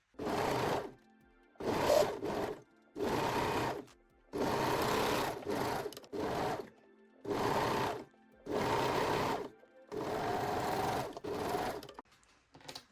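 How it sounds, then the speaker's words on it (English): A serger or zigzag sewing machine stitching the side seams of a lace bralette, running in about nine steady bursts of a second or so, separated by short pauses, close and fairly loud. "sew the side seams with a serger or zigzag stitch"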